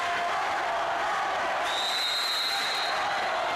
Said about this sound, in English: And they're up and cheering.